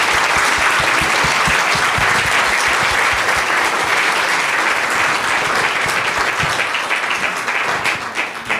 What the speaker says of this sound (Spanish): les voy a pedir un fuerte aplauso para el magistrado